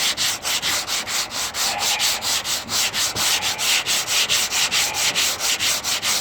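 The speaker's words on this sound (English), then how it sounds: "I'm letting the sandpaper do the work for me. I'm not putting pressure on it." Sandpaper rubbed by hand across a car body panel during bodywork and repainting, a steady back-and-forth scraping in an even rapid rhythm, loud and close with no voices.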